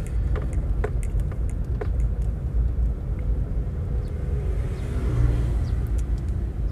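A car engine running steadily in third gear through a turn, with a continuous low rumble and no revving, plus faint clicks over the drone.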